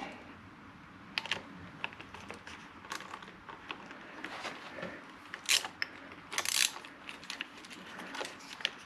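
Screws being taken out of a heated grip housing on a KTM Duke 890/790 motorcycle, with irregular close clicks, ratcheting taps and small plastic knocks scattered over a quiet background.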